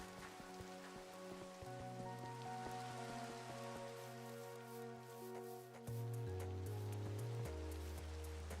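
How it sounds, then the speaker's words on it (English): Steady broadband rain falls in a modded Minecraft world, a constant hiss with scattered drop ticks, heard under sustained background music tones throughout. "The rain sounds sound awesome."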